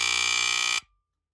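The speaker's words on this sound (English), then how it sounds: "So you would push that prong, and that's how it would test the alarm." A Firex FXW-1 smoke alarm with a Kobishi CLB26 AC vibrator sounds during a test, giving a loud, shrill, pulsing tone close by that stops abruptly after under a second.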